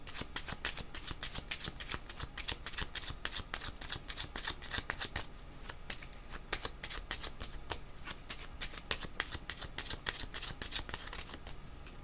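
Tarot cards being shuffled by hand before one is drawn, a rapid crisp run of riffling, flicking card sounds, close and continuous, with no talking.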